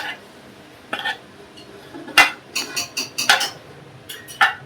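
A spoon mixing cooked rice with ghee in a home kitchen, producing scattered metallic clinks and scrapes against the dish, irregular taps clustered in quick bursts, fairly close and clear.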